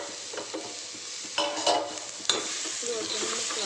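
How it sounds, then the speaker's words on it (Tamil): Tomato, green chilli, coriander and mint sautéing for mutton kurma: a soft sizzle with a few sharper spoon scrapes against the pan, close by and fairly quiet, with no voices. "இது ஒரு 2 நிமிஷம் வதங்கணும்."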